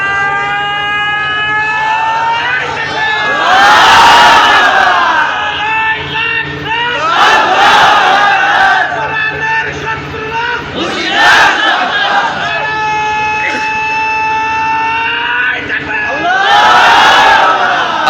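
Large crowd at a Bengali Islamic sermon shouting a slogan in unison, several loud, echoing group bursts through a public-address system, separated by a leader's amplified call between them, reverberant and outdoor-sounding.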